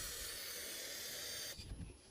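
Chain lube sprayed onto the chain of a Suzuki GSR750 motorcycle, a steady close hiss lasting most of the moment before cutting off into quieter handling noise.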